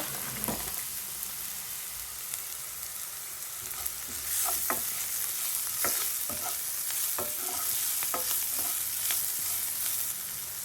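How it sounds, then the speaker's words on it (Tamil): Grated coconut sautéing in a pan, a steady close hiss of frying with scattered spoon scrapes and clicks, continuous and moderately loud throughout. "தேங்காய் பூ போட்டு நல்லா வதங்கிட்டு"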